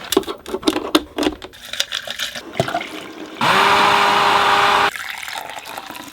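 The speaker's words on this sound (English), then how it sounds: "blender." A blender runs on a portable power station, giving a loud, steady whir for about a second and a half. It follows a series of clattering knocks and thuds, then cuts off sharply.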